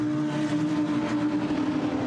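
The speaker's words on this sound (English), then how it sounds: "So the cars now sprint their way down Wellington Straight" GT race cars in a Blancpain GT Sports Club qualifying race at Silverstone, engines droning steadily at high revs down a straight, loud and continuous with no voices.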